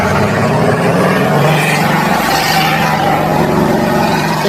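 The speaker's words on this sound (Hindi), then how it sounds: "आर्मी के T-90 टैंक की आप आवाज सुन सकते हो।" An Indian Army T-90 tank engine runs steadily, a loud continuous rumbling drone with a rough mechanical texture that stays even throughout, with no speech over it.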